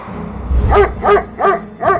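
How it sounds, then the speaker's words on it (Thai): A dog barks loudly, four sharp, evenly spaced barks close by, used as a sound effect in a Thai horror story. "มันเห่ากระโชกเสียงดังอย่างที่ไม่เคยเป็น"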